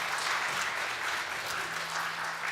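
A church congregation at a Sunday worship service claps steadily, a dense, even sheet of applause from many hands filling the room throughout, with no clear talk over it.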